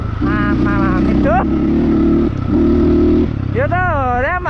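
A motorcycle on a solo mountain ride near Manang in Nepal, beside a river, holds a loud, steady engine drone close up while a rider talks over it throughout.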